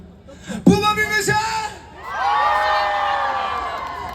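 A voice shouts briefly, then a crowd erupts in sustained loud cheering and yelling that carries on to the end, at an outdoor Strawberry Festival event in Buczek.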